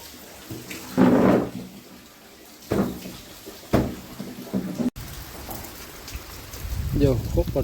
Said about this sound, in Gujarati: વરસાદ ફૂલ જોર છે